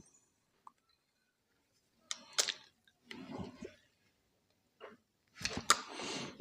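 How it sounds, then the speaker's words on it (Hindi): A screw being driven into a homemade soldering helping-hand piece: scattered clicks and brief scraping, rattling bursts of metal handling, quiet and close, separated by silent pauses. "स्क्रू लगा देते हैं।"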